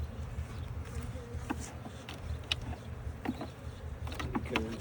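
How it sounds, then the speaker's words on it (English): Honey bees buzz steadily and close during a February hive inspection, a dense continuous drone with individual bees whining past now and then. "We're getting attacked by the bee."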